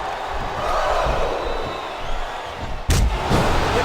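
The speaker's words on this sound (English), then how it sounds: "Sounds like this crowd's got something on their minds, King." A big wrestling arena crowd in a video game roars continuously, then a heavy slam cuts through and the cheering surges right after.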